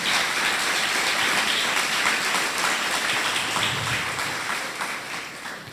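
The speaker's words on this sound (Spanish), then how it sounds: "denle un fuerte aplauso al Señor en esta noche" A church congregation applauds during an evening sermon, a dense, hissing wash of many hands clapping together that stays loud and even before easing slightly toward the end.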